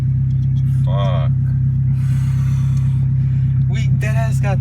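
Steady loud engine drone and road rumble from a Honda Civic running open headers with no exhaust on the highway, continuous throughout with bursts of voices talking over it.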